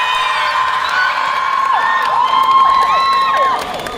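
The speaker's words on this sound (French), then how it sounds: "merci d'accueillir, sous un tonnerre d'applaudissements" A crowd at a cosplay parade at Bordeaux GeekFest cheers loudly, with high whoops and shouts rising and falling, then drops off near the end.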